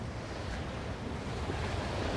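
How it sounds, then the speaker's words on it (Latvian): Ocean waves break steadily on the shore of a coastal trail in Portugal, a continuous loud surf roar mixed with wind buffeting the microphone, and no voices. "Esam okeāna malā, ejam pa okeāna."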